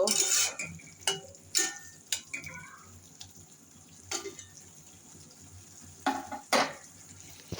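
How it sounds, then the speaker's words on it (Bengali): Tomatoes are sautéed in a spice paste for a fish curry, with a quiet background sizzle and a handful of sharp, irregular clinks and scrapes from a utensil against the pan, close and fairly soft. "এখন টমেটোটা সুন্দর করে কষিয়ে নিব"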